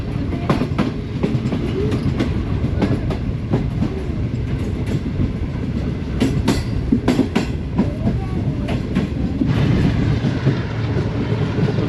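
A Green Line passenger train between Bahawalpur and Lahore, Pakistan, heard from inside an AC Standard coach: a loud, continuous rumble with rhythmic clickety-clack of wheels over rail joints and occasional rattles.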